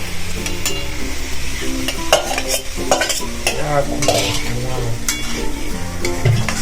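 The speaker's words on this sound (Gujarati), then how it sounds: "હવે આપણે એને શેકી દઈશું।" Urad flour roasting in ghee for a chasni adadiya sweet sizzles loudly while a spoon scrapes and clacks against the pan. The stirring comes in irregular strokes over the steady frying noise, with no voices.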